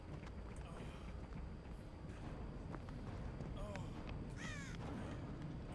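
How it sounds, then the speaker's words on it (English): Crows caw faintly in the Dead by Daylight video game, a few brief calls rising over a steady noisy in-game ambience. "These crows are not helping."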